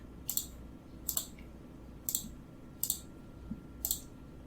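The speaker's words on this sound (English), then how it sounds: "Just click through one by one and set everything to be in the backpack." A computer mouse clicks through inventory items one by one in a Pathfinder game session, giving about six crisp, close clicks roughly a second apart over a quiet background.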